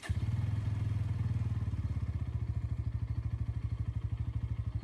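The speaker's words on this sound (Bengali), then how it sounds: "সাউন্ডটা সেই বাইকের যাই বলো" An N150 motorcycle engine runs while riding, giving a fast, even, close-up throb of regular pulses that stays steady throughout, with no voices.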